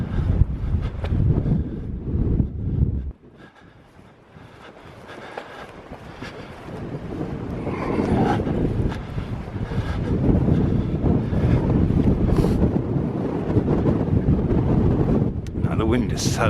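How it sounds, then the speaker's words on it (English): Strong winter wind buffets the microphone at Avebury, a loud rushing roar that drops briefly, then builds back into sustained gusting noise. "The wind is so strong that my eyes are watering really quite badly."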